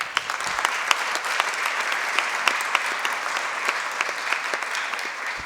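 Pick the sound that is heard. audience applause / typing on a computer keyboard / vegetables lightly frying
audience applause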